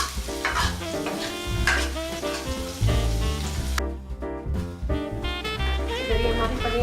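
Chopped tomatoes for palak paneer sizzle loudly in a pan, with busy stirring and scraping over a steady frying hiss.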